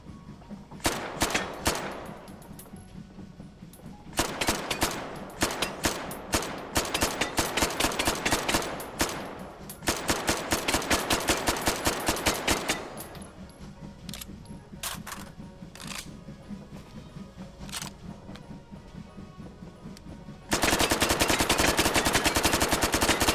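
Full-auto gunfire in the VR shooter Hot Dogs, Horseshoes & Hand Grenades, with several rapid loud bursts separated by short pauses and scattered single shots, ending in a sustained dense burst.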